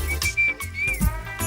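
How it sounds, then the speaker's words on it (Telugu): A clear, high sustained whistle, with a slight waver in pitch, sounds from a person in an exam hall, breaking off briefly amid a few low thumps and shuffles. "అలా విజిల్ కూడా వేయకూడదు తల్లి"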